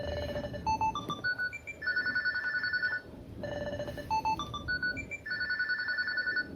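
A JLab JBuds Lux ANC headphone find-my-device alert plays a repeating electronic melody of bright, stepped beeps twice in a row, loud and close.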